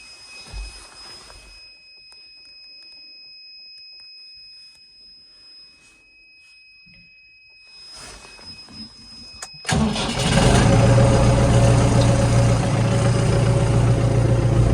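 A heavy MTZ diesel tractor engine cranks and catches on a cold start at about minus 12 degrees after standing two days, jumping to a loud, rough, steady idle after a quiet stretch.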